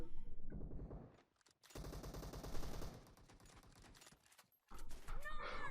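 Automatic gunfire rattles in rapid bursts during a PUBG match, loud and close, with short pauses between volleys and a brief gap of quiet.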